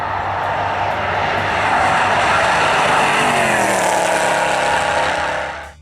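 A supercharged Mercedes C63 roars loudly past at high speed during a police chase, a sustained engine drone that sweeps down in pitch as it passes and fades abruptly at the end, with no talking.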